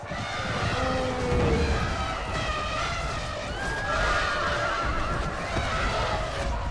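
Horses neighing and whinnying amid the clamour of a medieval cavalry battle in Medieval II Total War, two or three sharp whinnies rising over a dense, continuous roar of fighting.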